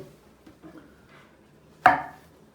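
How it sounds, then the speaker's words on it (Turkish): A single sharp chop of a knife through a mushroom onto a cutting board, preceded by faint quiet handling sounds. "Mantarları çok ince doğrayacağız."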